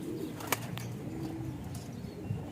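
Pigeons near a training loft in San Pablo, Laguna coo low and steadily, with a brief sharp wing flap and a few faint clicks, heard close against a quiet outdoor background with no talking.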